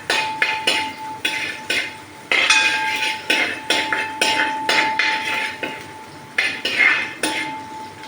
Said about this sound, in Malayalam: വെളുത്തുള്ളി ചെറുതായിട്ട് നമുക്കൊന്ന് വഴറ്റി കൊടുക്കാം.